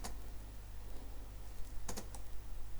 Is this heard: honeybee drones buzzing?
no